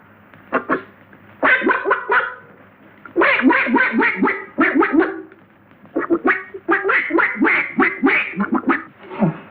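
A man imitates a duck, letting out rapid runs of loud nasal quacks in several bursts with short pauses between them.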